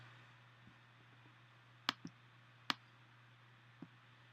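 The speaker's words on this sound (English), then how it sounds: "Let me see if I can click on it here." A computer mouse clicks a few times at a desk: sharp, quiet, separate clicks, two of them clearly louder, spread over a few seconds against a low steady hum.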